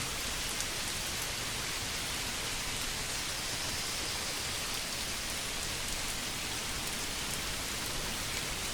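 Steady rain pouring down on village houses in the medieval game Manor Lords, a dense even hiss of drops that stays constant throughout, with no talking.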